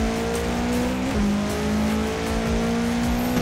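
A Subaru in the Forza Horizon 4 racing game turns and accelerates, its engine droning loudly and steadily with a brief dip in pitch before climbing again, alone without talk.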